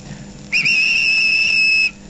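A high, steady two-tone whistle sounds alone for just over a second, like a small steam engine's shrill toot.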